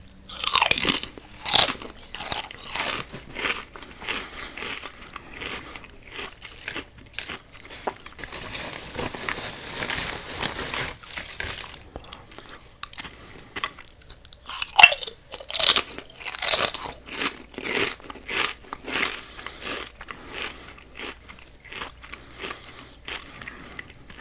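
Loud, close crunching and chewing of crisp snacks, repeated bites and mastication with a few pauses and crinkles.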